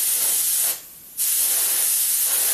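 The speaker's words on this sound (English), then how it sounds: "Here I'm putting on the first coat of the paint." An aerosol can sprays a first coat of black pearl paint onto a restored Matchbox Mustang die-cast car: a loud, close, continuous hiss that stops briefly for about half a second, then starts again.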